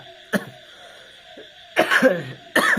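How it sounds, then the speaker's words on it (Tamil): A person coughs several times, one short cough followed by two harsher, louder bouts, close by. "எனக்கு வேறு இருமல் வராட்டுங்குது"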